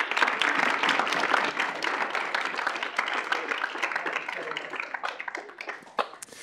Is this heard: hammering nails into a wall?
no